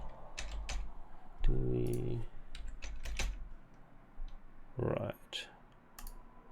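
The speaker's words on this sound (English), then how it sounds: "So if we start typing" Rapid clicks of a computer keyboard come in short bursts of typing, close and crisp, while a person talks briefly between keystrokes.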